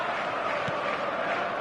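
Stadium crowd in eFootball, a steady wash of cheering and chanting from a large match-day audience, loud and continuous over the whole moment.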